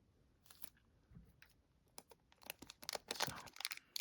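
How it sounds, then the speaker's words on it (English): Quiet scissor snipping and crunching of plastic packaging on a Pokémon Obsidian Flames Elite Trainer Box, soft at first, then a rapid cluster of sharp cuts and crinkles. "I'm going to cheat again and just go straight for the scissors."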